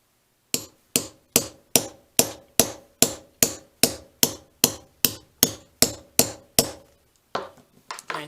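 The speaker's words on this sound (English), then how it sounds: "And once again, I have to hammer." A hammer strikes a metal snap being set into a small leather journal: about sixteen sharp, evenly spaced blows, close and loud, followed by a few softer, irregular taps after a brief pause.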